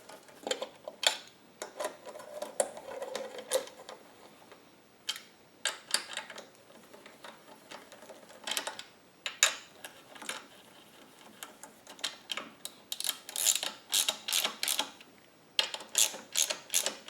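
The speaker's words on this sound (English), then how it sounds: "And I'm going to go ahead and start all 4 bolts before I tighten any of them down." Ratchet wrench tightening the bolts on a Wen 5000 generator's valve cover, heard as a steady run of close, crisp clicking bursts with short pauses between, growing busier toward the end, with no talking.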